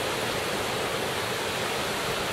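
Surf breaks at Coney Beach on a breezy early morning, a steady, broad wash of waves heard alone at moderate distance.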